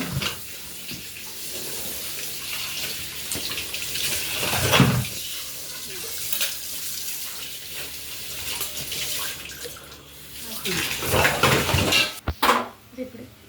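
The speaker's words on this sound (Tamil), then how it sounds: "அதுக்குள்ளே நம்ம பாத்திரத்தெல்லாம் கழுவி வச்சுக்கலாம்." Cooking pots and vessels are washed under running water in a home kitchen, a steady splashing rush with clinks and bursts of louder pouring near the end, while someone talks throughout.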